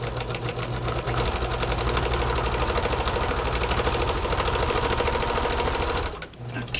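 A sewing machine runs a zigzag stitch across lace in one loud, continuous, close-up stretch of rapid rhythmic needle clatter and motor hum, easing off briefly near the end.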